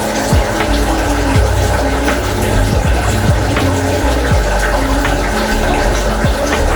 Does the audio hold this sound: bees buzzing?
no